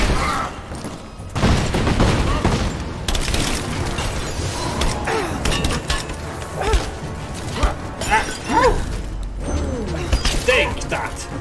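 Explosions and gunfire in the video game Rise of the Tomb Raider, a dense stretch of booms, crashes and rattling mechanical clatter, loud and continuous, with a voice talking over the action.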